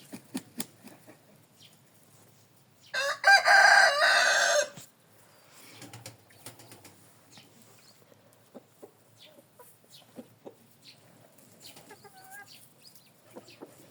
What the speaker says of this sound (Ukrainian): Є там два півника і чотири курочки.